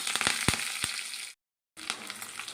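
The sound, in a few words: curry leaves sizzling in hot tempering oil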